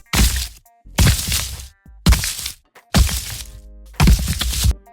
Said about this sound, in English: So that sound is obviously the golem footsteps.